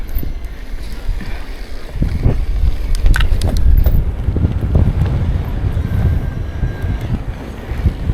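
Strong wind roaring and buffeting against the microphone during an e-bike ride on an Orbea Wild 2025 mountain bike, a constant loud rush with gusts and a few faint clicks and creaks.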